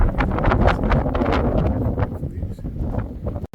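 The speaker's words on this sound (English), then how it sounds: "Now you can hear the wind" Strong wind blows steadily across a coastal hillside near Combe Martin, roaring and buffeting the microphone throughout.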